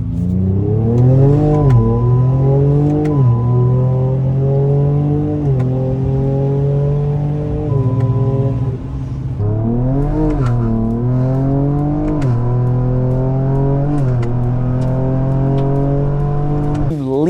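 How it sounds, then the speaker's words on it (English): Ford Ranger Raptor with a 3-liter EcoBoost engine revving hard as it accelerates through several gears, loud and close, each rising engine note breaking off at a shift before climbing again. "When I did drive the 3-liter EcoBoost in that Ranger Raptor, it was pretty fun. We'll go through a couple gears."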